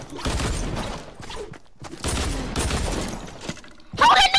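Gunfire in Fortnite, bursts of rapid shots and impacts in short clusters separated by brief pauses, with a sharp metallic clatter at the end, mixed with excited voices.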